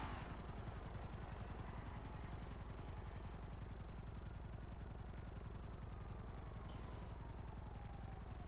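A helicopter flies in a video game with a steady, rhythmic rotor chop and engine drone that hold at an even, fairly quiet level throughout.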